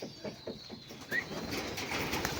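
A racing pigeon at a loft in Aparri, Cagayan gives a few soft, close coos, then a brief burst of wing flapping against faint background noise.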